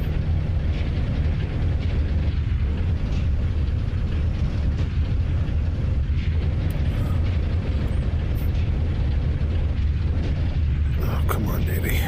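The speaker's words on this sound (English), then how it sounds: "Let's get a couple of degrees of flaps. Gears coming down." P-47 Thunderbolt in DCS flight simulator, flaps and landing gear being lowered: a loud, steady propeller-engine drone fills the whole stretch with rumbling airframe noise and no distinct mechanical clunks standing out.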